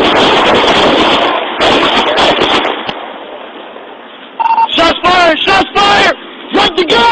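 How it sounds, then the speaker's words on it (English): A police officer's gunshots fired during a traffic stop: a rapid cluster of loud, sharp bangs that follows a stretch of shouting voices and strong noise, with voices present throughout. "Shots fired!"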